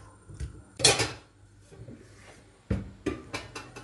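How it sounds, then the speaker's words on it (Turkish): A spoon stirring water, vinegar and sugar in a bowl for a savory cookie dough: light, scattered clinks and scrapes of metal against the dish, a few sharper taps among softer swishes, close and fairly quiet. "Bu malzemelerimi biraz karıştırıyorum."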